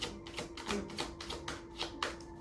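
Tarot cards being shuffled, a quick run of soft papery riffs and taps in an uneven rhythm, faint and close, with no one speaking.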